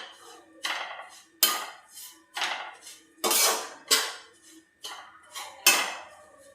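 A spoon scrapes and clanks against a pan as grated coconut roasts in ghee on low gas for kopra pak, about eight sharp metallic strokes in an uneven rhythm, close and without talk.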